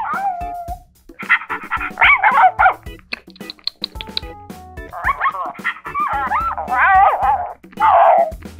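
A dog in a children's superhero camping game yelps, whines and whimpers in a run of short, high, tonal bursts with brief gaps. The sounds are fairly loud and close.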